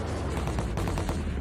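Rapid gunfire crackles through an animated war scene set in Vovchansk, a dense, steady barrage of overlapping shots that stays loud and close for the whole moment, with no voices.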